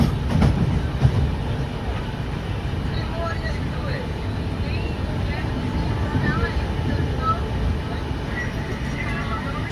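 A train rushes at high speed through Dabbaspete halt station, a continuous loud rumble and rattle of wheels and carriages, with voices talking over the din.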